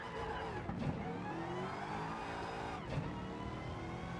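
A race car engine in Gran Turismo 7 drones and revs with traction control off, rising and shifting pitch steadily with two brief gear-change dips, loud and close.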